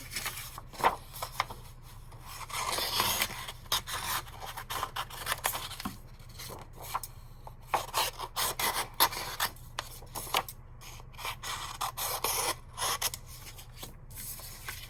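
Scissors cutting out a large paper triangle, close rasping snips and rustling paper in an uneven repeated rhythm, quiet and steady with no talk.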